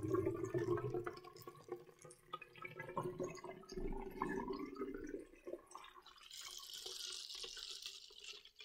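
Water running through a hose into a bag-in-box valve system, a faint, uneven trickle and gurgle with intermittent drips, ending in a brighter hissing flow, no voices heard.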